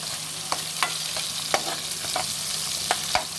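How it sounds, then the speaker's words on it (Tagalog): Tilapia fries in hot, splattering oil, a steady close sizzle broken by sharp pops and spits every half second or so, with no voices. "Tanda lang guys, dahil matalsik ang mantika"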